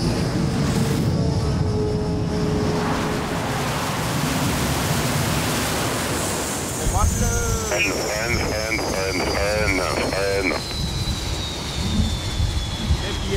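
A fighter jet roars overhead and rushes in to land on an aircraft carrier deck, followed by a heavy thump and mechanical clatter as engine noise dominates; no clear talk.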